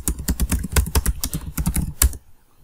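Fast, steady typing on a computer keyboard, close and loud, with a dense run of crisp key clicks that stops abruptly near the end with no talking.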